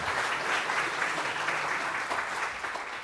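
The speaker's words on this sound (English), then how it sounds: "give yourself a round of applause for that" A church congregation claps during a Sunday service, a continuous, moderately loud wash of applause that holds steady before tapering slightly at the close.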